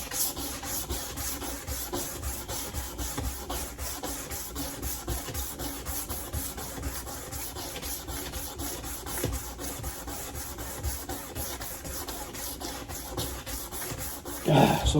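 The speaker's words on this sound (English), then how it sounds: "You can feel the instant the grit is gone on this sandpaper" Sandpaper rubs back and forth in a steady, continuous rasping rhythm, fairly faint and close, as a machete blade is sanded, with a brief louder scrape at the end.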